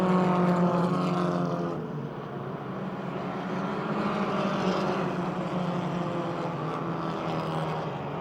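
Race cars, including a Honda and a Chevy Cavalier, lapping at Motordrome Speedway: a steady, fairly loud, distant drone of engines that dips slightly, then holds, with no talking.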